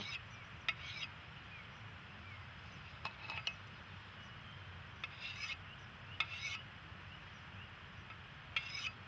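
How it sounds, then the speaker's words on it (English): A hand tool lightly rasps and scrapes over timber to polish off a burr during log house repair in Norway, faint intermittent strokes with small clinks over a low steady background hum. "Even lighter, just polishing off the burr."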